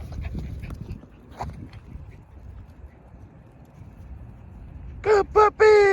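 Puppy of pitbull or Belgian Malinois type giving short high whimpers in a quick cluster near the end, close by, after a stretch of quiet room noise with faint human voice.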